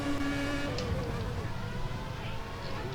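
Formula race cars in a sim racing Canadian Grand Prix, engines droning steadily with a rising whine and a passing car blending into continuous loud motor noise, faint commentary underneath.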